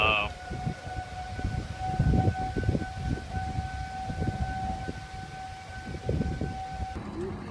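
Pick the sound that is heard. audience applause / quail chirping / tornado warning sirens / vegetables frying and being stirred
tornado warning sirens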